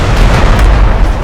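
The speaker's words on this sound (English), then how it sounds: "Aim the cannons." Cannons fire in the stealth video game Shadow Tactics, a loud, heavy booming blast that rumbles and fills the whole short moment with no voices over it.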